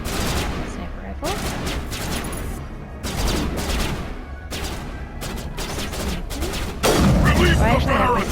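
Mass Effect sniper rifle fire: several sharp, loud shots in irregular succession amid combat noise, with a louder burst near the end.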